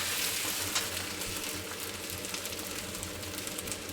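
Ginger garlic paste frying in a kadhai over a slow flame, with a steady close sizzle and faint stirring underneath a low hum, no voices.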